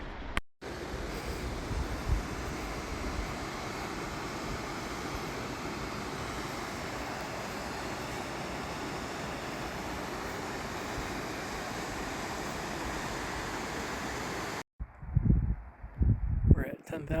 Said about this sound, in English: I can hear a lot of water moving down there.